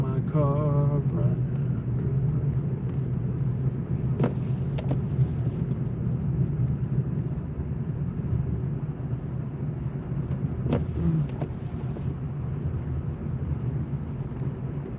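Steady low engine and road rumble from inside a car driving on a snowy road during a major winter storm and extreme cold in the Texas Panhandle, continuous and even throughout, with a few faint higher clicks.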